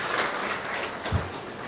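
Steady applause from an audience at a book launch ceremony in Buldhana, a continuous dense patter of many hands clapping together, moderately loud and even throughout, with no talking over it.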